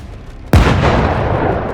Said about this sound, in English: HIMARS fired immediately.